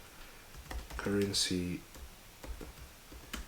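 Fast, light clicks of fingers typing on a computer keyboard come in a short burst at close range, while a person speaks a word over the keystrokes.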